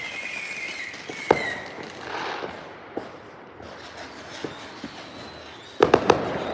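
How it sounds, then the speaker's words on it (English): Fireworks crackle and pop at a distance, with scattered bangs and a quick cluster of louder booms near the end. "Why buy fireworks? We can watch somebody else's for free."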